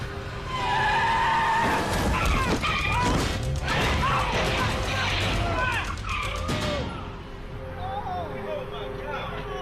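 A car is floored while still pinned, its tires squealing and skidding before it smashes into something, loud and chaotic with engine roar, impacts and people shouting over the noise.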